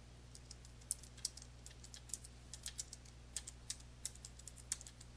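Light, irregular tapping on a computer keyboard, a rapid scatter of soft clicks close to the microphone over a steady low hum.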